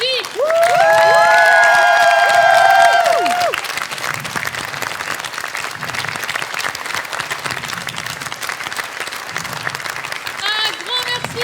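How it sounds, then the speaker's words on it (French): A theatre audience at a Starmania tribute show applauds and cheers loudly, dense clapping with some whistles and shouts over a fading musical chord, the ovation continuing steadily throughout. "vous pouvez applaudir très fort Stéphane et Jeff à la régie."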